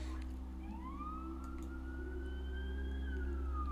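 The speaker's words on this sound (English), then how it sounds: "I don't know if y'all can hear the sirens and stuff outside" Emergency sirens wail outdoors, rising and sliding in pitch, heard faintly through walls over a steady low background rumble.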